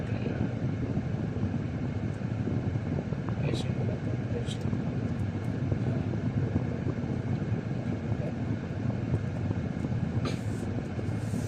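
An air conditioner inside a vehicle, facing the passenger, runs with a steady loud broadband hum and rush that fills the whole stretch, with a few faint clicks over it.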